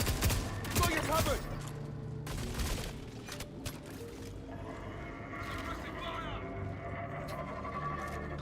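Bursts of suppressing gunfire in Star Citizen crackle in rapid clusters early on, then thin to scattered shots over ambient game noise, with a voice talking faintly underneath.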